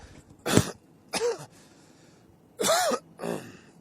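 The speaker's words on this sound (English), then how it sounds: "sorry, excuse me, I just got a cough." Four sharp coughs come in two pairs, each a brief harsh burst, close and fairly loud, with quiet in between.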